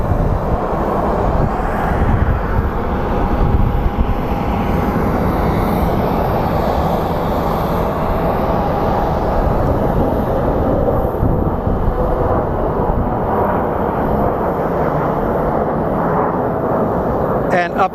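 Steady, loud roar of airliner engines at Phoenix Sky Harbor International Airport as Southwest flights push back, a continuous rumbling wash with a voice talking faintly over it.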